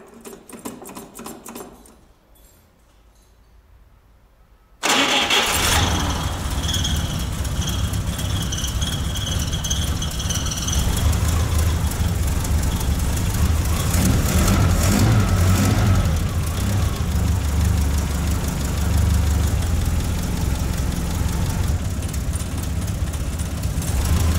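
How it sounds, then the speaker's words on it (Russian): A GAZ-24 Volga engine cranks and catches after about five seconds of quiet handling noise, then settles into a loud, steady idle with rattling and patter from the engine bay close by. "Все, запускаем мотор наш."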